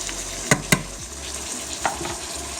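Onions cooking and wilting in a hot pan, a steady low sizzle with a few sharp clanks of stirring near the start and a softer knock later, close and moderately loud, no talking.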